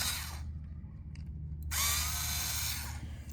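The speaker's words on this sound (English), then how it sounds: "Just pull the bolts out of the bottom side of the kill switch" Power drill running on the bolts under a trimmer's kill switch, a short whir at the start, then a pause and a longer, louder burst of steady spinning, close by over a constant low hum.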